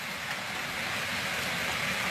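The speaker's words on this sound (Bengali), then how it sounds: "দেখেছ কি সুন্দর বৃষ্টি হচ্ছে" Monsoon rain falling in Bangladesh during a thunderstorm, a steady, dense hiss that fills the whole stretch with no voices.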